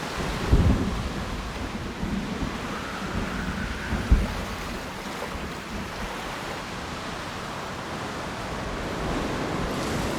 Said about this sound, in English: I hate storms.